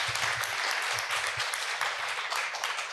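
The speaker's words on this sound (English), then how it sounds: "A round of applause." Audience at a literary festival panel gives a round of applause, a thick sustained burst of many hands clapping at close range, with a few low thumps underneath and no talk over it.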